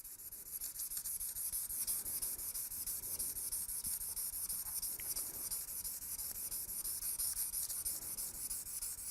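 A knife blade is hand-sanded with fine-grit sandpaper in steady back-and-forth rubbing strokes that run continuously and close up, with no voices.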